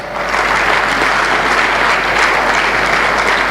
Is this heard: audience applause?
yes